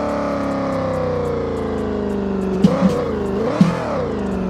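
A 1000HP Dodge RAM TRX pickup in BeamNG Drive holds a loud, steady engine drone, then revs up and down in a few quick surges near the end.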